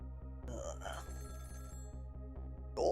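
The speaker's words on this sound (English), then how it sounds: "the phone rang" A telephone bell rings in rapid repeated pulses over a steady low tone, with a voice briefly heard over the ringing.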